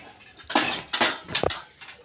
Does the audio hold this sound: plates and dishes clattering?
yes